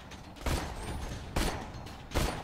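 Gunfire in the shooter game Borderlands 2 comes as three sharp, loud bursts spaced about a second apart, with a rumbling mechanical background between them and no voices.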